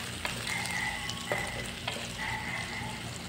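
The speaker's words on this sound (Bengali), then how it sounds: "এবার এগুলো আমি খুব ভালোভাবে নেড়ে চেড়ে নেব।" Onions, garlic and green chilies sizzle steadily in a pan as a spatula stirs them, with a constant frying hiss and occasional scraping strokes, close and moderately quiet.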